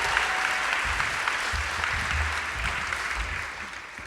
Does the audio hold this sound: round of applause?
yes